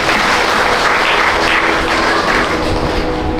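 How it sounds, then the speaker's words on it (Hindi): Loud, dense applause from a congregation at a Christian sermon, a continuous roar of many hands clapping close to the recorder with no pauses. "एक बार तालियां हो जाए प्रभु की।"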